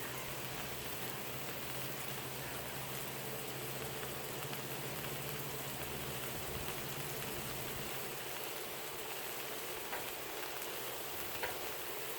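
Chicken drumettes fry on a Blackstone griddle with a steady, even sizzle and crackle, like light rain, running the whole time at moderate loudness with no talk.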